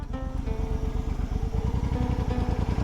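A Suzuki C50 motorcycle converted to a trike with a Lehman Tramp kit idles and pulls away, its V-twin engine giving a steady close, loping throb with mechanical clatter.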